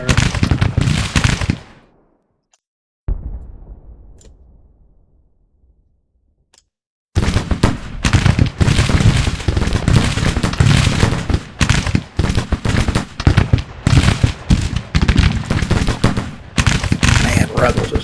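Artillery canister volleys in a Civil War strategy game fire as dense, loud, rapid bursts of booms and cracks, with a sharp blast fading into near silence before a sustained barrage resumes.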